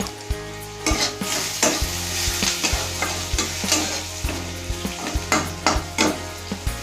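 Onions fry in a pan for coconut curry with a steady close-up sizzle, and a spatula stirs and scrapes the pan in repeated strokes.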